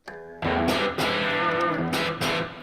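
An electric guitar plays through an amp with a 20 dB clean boost, giving loud, sustained strummed chords with sharp repeated attacks and no talking.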